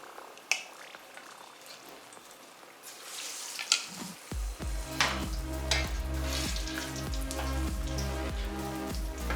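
After a quiet start with a few handling sounds, battered veg akbari balls drop into hot oil and the deep-frying breaks into a loud, dense, rain-like sizzle that continues steadily.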